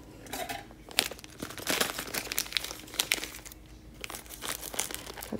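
Crinkly plastic craft packaging is cut open with scissors, a close run of irregular crackles, rustles and sharp snips.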